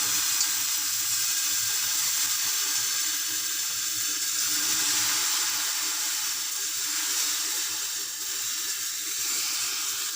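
Water poured into a hot pan hisses and sizzles in a steady, loud wash while chitoi pitha, a rice-batter cake, steams under a lid.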